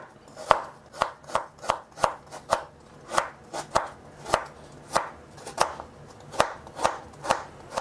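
Rhythmic knife chops slicing galangal into rounds on a cutting board, about two strikes per second, crisp and close, with no voices.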